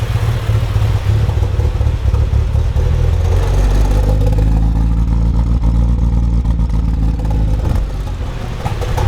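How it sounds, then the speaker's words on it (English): A Mitsubishi Evo engine idles roughly on its first real startup, running rich. A loud, close, uneven low rumble carries on steadily throughout with irregular clattering pulses and no talk. "it starts, it holds idle, but it's just a very rough idle"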